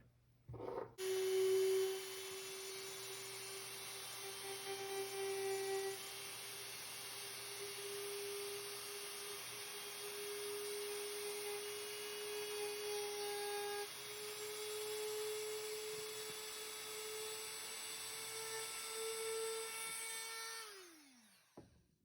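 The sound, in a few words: Dremel rotary tool grinding airsoft R-hop part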